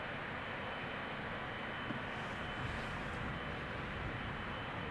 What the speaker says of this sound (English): It is a Boeing 777-300ER, 15 years old.